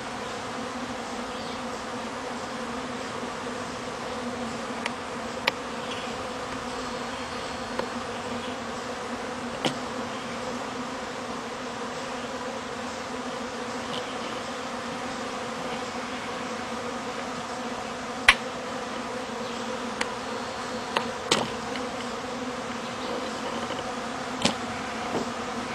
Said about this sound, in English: I'm going to be quiet so you can listen to the bees.